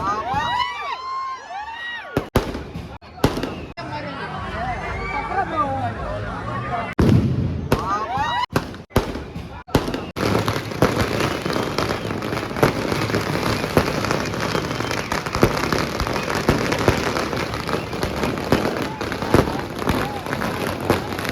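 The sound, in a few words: firecrackers and fireworks exploding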